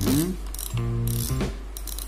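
A Penn Spinfisher V 6500 spinning reel clicks and ratchets as it is tightened, with several short bursts of close mechanical ticking and a sharp pawl buzz.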